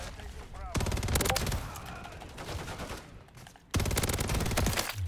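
Rapid automatic gunfire from a Modern Warfare III shooter game, loud bursts with a short pause midway, then another sustained volley; a voice is faintly mixed in.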